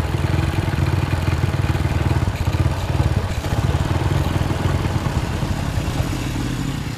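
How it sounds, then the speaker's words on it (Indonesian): An old, worn Honda Win motorcycle engine runs steadily just after repair, a close, continuous mid-pitched idle with a slight mechanical clatter and no talking. "jadi motornya sudah hidup"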